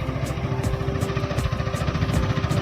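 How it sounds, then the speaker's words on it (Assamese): A motorbike engine runs on a mountain road with a steady, close rumble and a rhythmic, pulsing throb that holds throughout, with no voices over it. "বহুত বাইক গৈছে ন"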